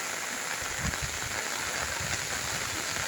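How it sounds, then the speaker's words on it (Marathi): A dense, steady wash of heavy monsoon rain pouring down over open countryside in Konkan, with no voices. "रानात धुवाधार पावसाची सुरुवात झाली"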